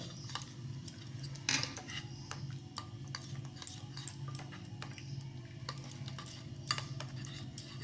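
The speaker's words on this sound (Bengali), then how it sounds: "এবার একটা চামচের সাহায্যে খুব ভালো করে নাড়িয়ে নেব, নেড়ে চেড়ে নেব ভালো করে।" Spoon stirring green chillies with spices and hot mustard oil for a pickle, giving light irregular metallic clinks and scrapes against the bowl, close and fairly quiet over a low steady background hum.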